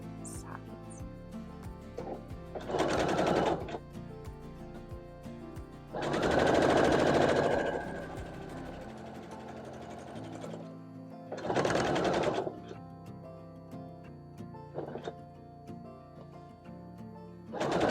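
A sewing machine stitches fabric strips onto quilt acorn blocks, running in several loud bursts of rapid whirring, separated by quieter pauses.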